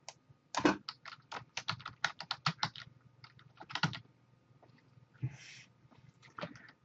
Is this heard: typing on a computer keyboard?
yes